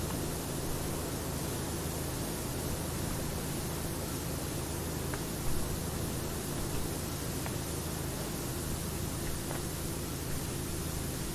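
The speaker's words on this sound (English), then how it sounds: "the white noise is just driving its way into my head now" Dense, even white-noise hiss fills a scene in the PowerWash Simulator video game, constant and loud throughout, with a few faint ticks underneath and no voices.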